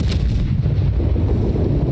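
Ship cannons fire in the pirate naval game Blackwake, a loud, dense low-frequency rumble of booms rolling continuously through a short burst with no talking.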